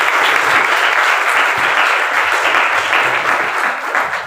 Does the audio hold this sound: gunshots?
no